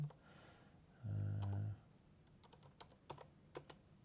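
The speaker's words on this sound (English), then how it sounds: "Sorry about the typing." Keys on a computer keyboard clack in short irregular bursts during a live gaming stream of Lemnis Gate. The sound is faint and close, with a brief low voice-like noise early on.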